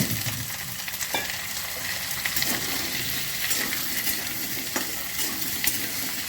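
Potatoes and onions frying together in a pan for aloo posto, a steady close sizzle with occasional stirring scrapes and light clinks of a utensil, no talking.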